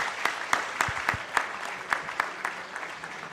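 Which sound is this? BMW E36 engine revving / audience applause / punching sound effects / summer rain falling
audience applause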